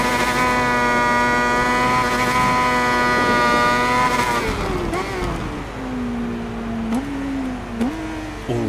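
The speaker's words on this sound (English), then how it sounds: "Revs, Captain. Loads of revs." Racing motorcycle engine in the Ride 5 video game, a Thunder 600 bike on a wet track, holding a high steady rev, then dropping and surging through several loud gear shifts, close and continuous.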